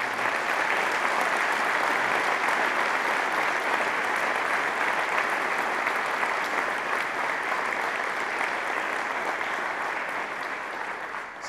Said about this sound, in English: Let's give a big round of applause to your